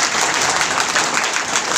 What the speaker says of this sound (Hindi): सबके लिए एक बार जोरदार तालियां बजा लीजिए आपको।